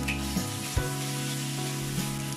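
King oyster mushrooms and drained green beans are stir-fried in a pan, giving a steady loud sizzle broken by a few sharp clanks and scrapes of the spatula as the vegetables are tossed.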